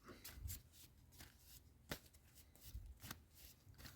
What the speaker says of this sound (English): Just going to shuffle these up quickly and then see what we've got.